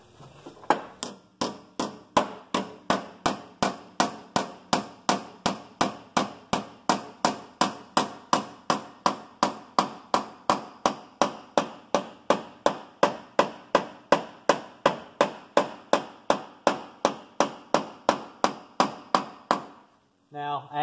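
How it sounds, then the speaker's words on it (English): Steady, evenly spaced hammer blows ringing on a sheet metal patch panel edge, dozens of sharp metallic strikes in a regular rhythm, close and clear. "use the pitch of the hammer here to start manipulating this edge"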